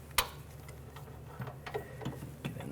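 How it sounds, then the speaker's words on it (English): Ratchet with an 18mm socket loosening a bolt and nut on the rear upper control arm of a 2006-2010 BMW 550i: one sharp knock, then a few quiet, spaced clicks, close and faint. "We're going to loosen this bolt up and nut. Use an 18mm socket"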